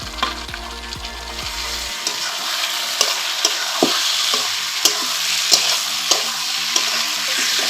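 Fried chicken and potatoes being stirred into spice masala with garlic, a loud close sizzle broken by regular scraping strokes of a spoon about every half second to second.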